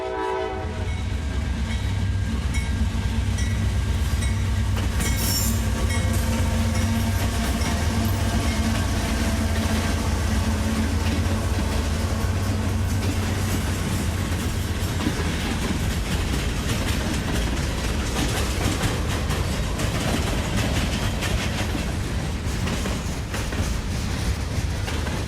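Freight train Q648 led by two AC-44 locomotives departing north from Cordele, Georgia, opening with a horn blast, then steady loud diesel rumble and rolling wheel clatter that continue without talk.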